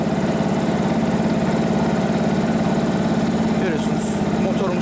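A Yamaha MT-125 motorcycle engine idles steadily after an oil change, a close, even low-mid putter that holds constant from start to finish with no voices.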